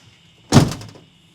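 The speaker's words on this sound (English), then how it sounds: "if the door will close on that side." A Sprinter camper van's side door, with a screen cover being fitted, shuts in one solid thunk that rolls out into a brief rumble against a quiet backdrop.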